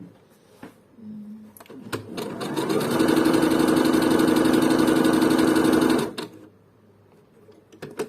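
A Bernette Sew and Go 8 sewing machine runs a steady zigzag stitch for about three seconds, its motor humming loud and close, framed by a few clicks and handling noises before and after.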